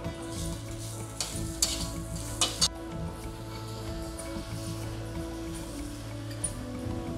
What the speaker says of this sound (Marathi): कैरी टाकलेली आहे, थोडी नरम झाली पाहिजे तोपर्यंत थोडी फ्राय करायची तेलामध्ये